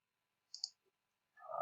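A double mouse click on a computer, two quick close taps followed by a fainter tick, then a brief louder rustle at the end, all fairly quiet.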